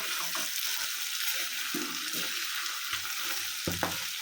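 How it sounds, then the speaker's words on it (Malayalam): Garlic and ginger roast in a pan for a chilli pickle, giving a steady, close sizzle with scraping stir strokes now and then and no voices. "നല്ല പോലെ റോസ്റ്റായിട്ട് വരട്ടെ വെളുത്തുള്ളിയും ഇഞ്ചിയും ഒക്കെ നല്ല പോലെ അതിൻ്റെ നല്ല പോലെ വാടി വരട്ടെ"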